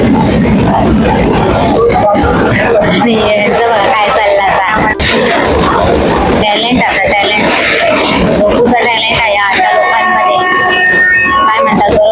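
Steady rumble and rattle of a moving train carriage, with passengers chattering nearby throughout.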